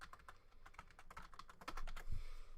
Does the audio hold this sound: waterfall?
no